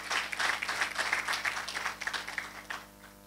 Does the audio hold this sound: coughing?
no